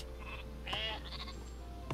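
A sheep bleats once in the video game Northgard, a wavering nasal call over a steady low background hum, followed by a short sharp sound near the end.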